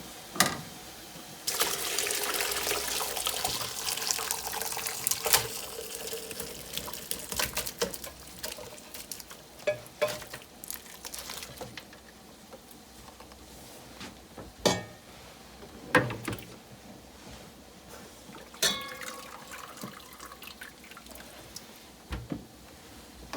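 Brown chicken stock, simmered for three and a half hours, strained through a sieve: intermittent trickling and pattering liquid with soft clinks and scrapes as the solids are pressed, fairly close and quiet.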